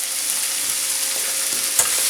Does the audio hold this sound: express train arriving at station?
no